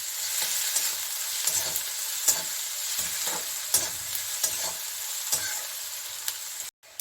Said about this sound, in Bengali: এখন এটাকে আমি একটু হালকা ভেজে নেব পেঁয়াজটাকে